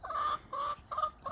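A few chickens cluck in short, close bursts, three or four quick calls in a row with no talk over them.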